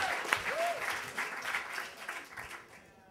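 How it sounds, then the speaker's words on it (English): Audience clapping at a talk, a steady patter of applause that swells and fades slightly, with a faint voice briefly heard early on. "Keep clapping"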